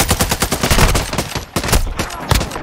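A TAQ-V rifle is hip-fired in Modern Warfare 2, sending loud, rapid bursts of gunshots in close succession with only a brief pause midway.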